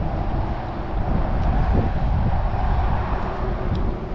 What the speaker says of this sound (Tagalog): Lumakas yung hangin.